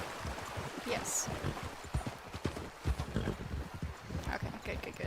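Horse hooves clip-clopping on a path at night, an irregular run of close, fairly loud hoofbeats with background noise and a voice briefly in between.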